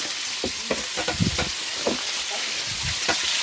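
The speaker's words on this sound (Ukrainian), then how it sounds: "шкварчить" Oil sizzles and crackles steadily in a pan, with soft scraping and stirring knocks breaking through the hiss at irregular moments, close by.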